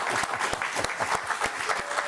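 A room of people on a talk show stands and applauds to mimic a long standing ovation at Cannes, a thick, continuous crowd clapping with a few louder hand slaps standing out near the front.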